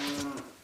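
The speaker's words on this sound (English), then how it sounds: "we just heard the cow moo" A single short cow moo from The Legend of Zelda: Ocarina of Time, a brief low tonal call heard clearly and alone.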